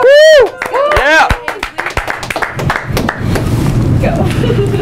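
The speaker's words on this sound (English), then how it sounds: "Everybody cheer." A small crowd at a contest winner's announcement breaks into scattered clapping after a sharp whooping cheer, with voices calling out over the applause, which settles into a rougher murmur.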